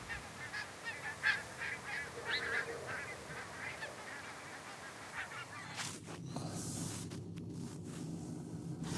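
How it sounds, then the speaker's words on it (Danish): A flock of geese honks repeatedly outdoors at a moderate distance, many overlapping calls in an irregular chatter over steady background noise, followed by closer rustling and handling sounds. "Det er nok gæs."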